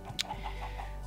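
A spawned chicken in the Minecraft video game gives a few soft, quiet clucks with a brief sharper blip near the start.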